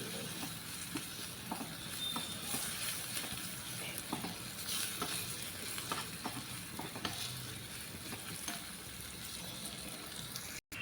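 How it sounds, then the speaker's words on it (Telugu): Black peppercorns fry and are stirred in a pan for tomato rasam, giving a continuous close sizzle with scattered scraping and stirring sounds and a sharp cutoff at the end. "మిరియాల ఎన్ని తెంచుకున్నాం కదా అవి కూడా వేసుకోవాలండి ఇందులోనే బాగా వేయించుకోవాలండి"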